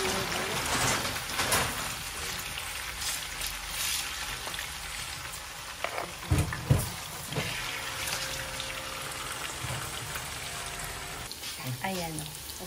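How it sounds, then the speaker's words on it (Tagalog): Tofu frying in a hot pan, a dense steady sizzle and crackle with sharp pops and clatter from the pan, with a voice talking over it at times. "Ilalagay ko na yung tofu. Ipiprito ko."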